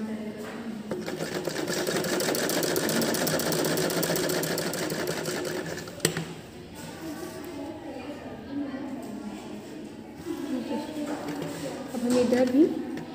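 A sewing machine stitches smocking frock fabric in one continuous whirring run for about six seconds, followed by quieter handling noises and a few brief machine bursts.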